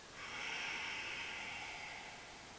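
A slow, steady exhalation during autogenic relaxation training, a soft airy hiss that swells and then fades over a couple of seconds, close and quiet with no talk.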